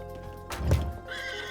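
Horses neigh in Age of Mythology, a single close whinny swelling and fading over a low rumble of game ambience.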